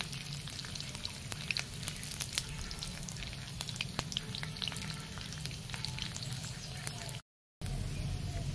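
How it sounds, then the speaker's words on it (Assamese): Dried red chilies frying in hot oil give a steady, close crackling sizzle, with scattered sharp pops over a continuous hiss and a faint voice in the background. "অকণমান টাইম ৰঙচুৱা হোৱাকৈ ভাজিম"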